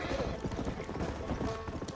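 Horse hooves clip-clop at a steady trot in the Red Dead Redemption video game, a rapid rhythmic patter at moderate distance under a faint voice.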